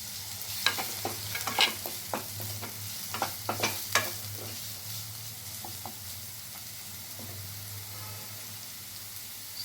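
Chopped onions hiss in hot oil in a heated wok, with a low steady sizzle punctuated by a cluster of sharp crackling pops early on that thin out toward the end.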